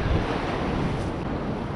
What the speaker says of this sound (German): weil ihr seht, hier sind Wellen